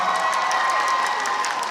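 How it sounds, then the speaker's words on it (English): An audience claps throughout at the Zenkaikon 2022 convention masquerade; dense, even, fairly loud applause from a crowd, with some faint cheering mixed in. "They're clapping."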